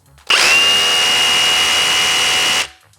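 A premium Korean-made rotary hammer drill runs at its third speed setting, a loud, steady high-pitched whine that starts abruptly, holds for about two seconds and then cuts off, heard alone.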